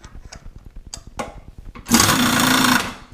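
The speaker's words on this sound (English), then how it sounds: "I'm going to mill the profile with a high-speed steel 1/2 inch 4-flute end mill." A milling machine with a high-speed steel 1/2 inch 4-flute end mill cuts a tail light bracket profile for a 1941 Ford pickup. Close, rhythmic ticking is followed by a loud, sustained cutting roar lasting about a second.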